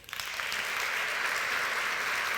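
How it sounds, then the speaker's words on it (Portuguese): An audience in Beja applauds the writer Mário de Carvalho at a literary event: steady, dense clapping from a crowd that swells quickly and holds at a strong, even level throughout. "peço o vosso aplauso para Mário de Carvalho"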